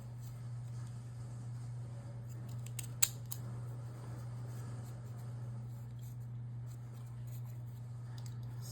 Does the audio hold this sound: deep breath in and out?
no